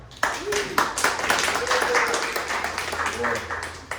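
A round of applause for a presenter at a detox health talk, a modest audience clapping in a loose, uneven patter with voices talking over it.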